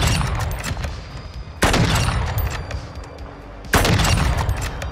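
Sniper rifle shots ring out in Modern Warfare II, two loud sharp cracks a couple of seconds apart, each followed by a rolling echo over steady background battle noise.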